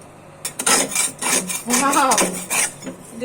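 A heated small karahi is scrubbed hard, giving loud, close, rhythmic scraping and rasping strokes of metal in quick bursts with brief pauses between.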